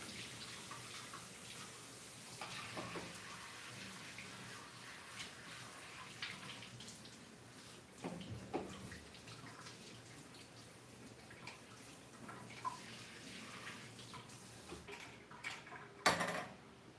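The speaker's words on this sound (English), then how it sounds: "with immersion blenders, I like to wash them as soon as possible because I feel like they just get nastier as they sit in the sink." An immersion blender being washed in a kitchen sink, running tap water with scattered knocks and clatters of the blender against the basin, fairly faint and close, no talk.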